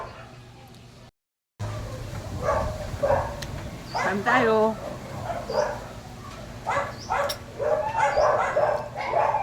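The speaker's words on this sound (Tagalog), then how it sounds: "Ang ingay ng mga aso." Several dogs bark and yip repeatedly in bursts, fairly close, while a person speaks briefly over the commotion.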